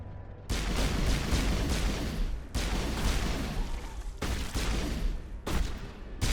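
Rapid gunfire in the video game Mass Effect, loud sustained bursts of shots broken by short gaps.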